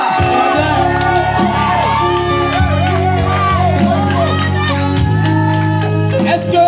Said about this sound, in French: En poussant des cris de joie, des cris de victoire